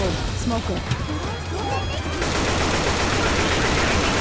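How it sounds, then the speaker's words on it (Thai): Sustained rapid AK rifle fire from the video game Left 4 Dead 2 rattles on as a dense, continuous burst, growing louder and steadier in the second half, with voices talking over it. "โอ้เสียงยิง AK"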